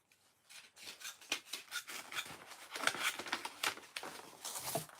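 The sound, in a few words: cutting off an extra paper flap with scissors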